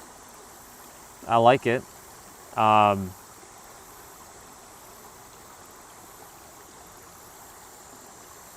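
A stream flows in a steady low rushing wash throughout, with a person briefly speaking over it.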